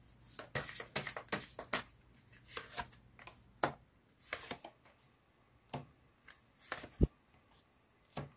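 Tarot cards are shuffled by hand in a quiet room, giving a series of crisp riffling snaps and soft slaps at an irregular rhythm, close and fairly faint.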